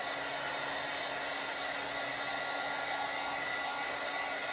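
A hair dryer blows steadily and close on a freshly printed t-shirt, a continuous loud whooshing hum with no pauses and no voices.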